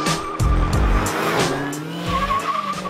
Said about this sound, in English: the Charger liked launching in second gear with smooth throttle application